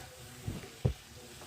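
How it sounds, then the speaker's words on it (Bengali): Shredded cabbage with a little sugar is stirred in a pan over medium heat: a soft, faint sizzle under two quick scraping stirs, close and brief. "সামান্য একটু চিনি দেওয়ার পরে এখন আর একটু সময় নাড়াচাড়া করে"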